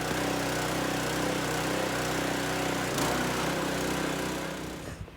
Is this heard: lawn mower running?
yes